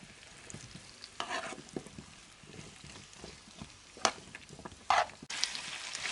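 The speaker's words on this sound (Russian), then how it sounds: "Так, помешивая." A spoon stirs soup cooking in a pot on a village kitchen stove, giving a few scraping, swishing strokes against the pot over a soft simmering background, with no talking.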